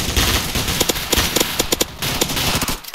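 Rapid gunfire from a juggernaut in the Roblox game Military Tycoon, dense bursts of sharp cracking shots in quick succession, loud and continuous across the moment with slight pauses.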